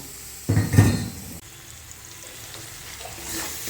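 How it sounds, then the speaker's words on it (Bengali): Ginger and spice masala frying in a pan, a loud burst of sizzling with a clatter of utensil against the pan, then settling into a softer steady crackle and hiss. "দেখো আদাটা দিয়ে খুব সুন্দর মশলাটা দিয়ে ভালো করে আমি ভেজে নিলাম"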